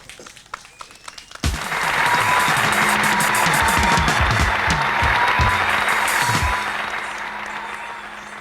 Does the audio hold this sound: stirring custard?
no